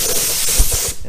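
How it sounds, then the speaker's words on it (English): Glue sprayed from an aerosol can onto panel edges of a totaled car under rebuild in a body shop booth, a steady close hiss lasting about a second before cutting off, with a few low knocks partway through. "Spray a little glue on it like so."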